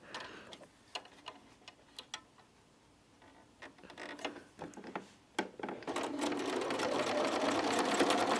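A sewing machine runs a quilt seam to the end of a partial-seam unit, starting after a few quiet ticks and clicks and then whirring steadily and closely to the end.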